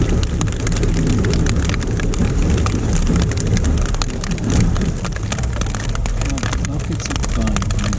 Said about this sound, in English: But it's starting to rain again.